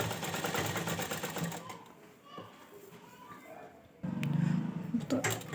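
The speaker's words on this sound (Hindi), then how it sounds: "तो इसके हिसाब से मैं इसकी सिलाई ले रही हूँ।" A sewing machine stitches lace onto an odhani, giving a fast, steady mechanical whir that pauses midway and then resumes. Children and other voices can be heard in the background.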